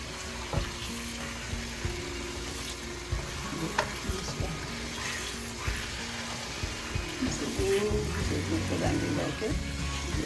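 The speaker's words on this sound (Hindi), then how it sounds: "बस थोड़ी सी जीरा को दिखा रही हूँ कि ऐसे भूनना है इसे। फिर इसमें चम्मच मार के जाना है ताकि नीचे लगे नहीं।" Cumin seeds roast in a pan, with a steady low sizzle and frequent scraping taps as a spoon stirs them across the bottom, close and continuous throughout.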